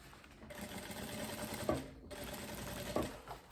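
Sewing machine stitching a seam down a faux leather midi skirt, a quiet, steady rapid needle chatter running continuously with a couple of brief thumps, no talk.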